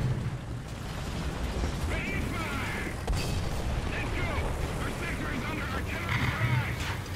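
Tank cannon fire in the War Thunder game, heavy booming blasts and rumbling mechanical battle noise at a steady, dense level, with a voice talking over it.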